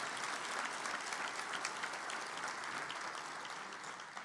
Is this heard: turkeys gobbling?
no